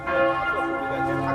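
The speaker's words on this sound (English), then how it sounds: "I love the sound of those bells." Church bells ringing in Budapest, a steady sustained peal with rich overlapping tones, loud and continuous throughout with no talking.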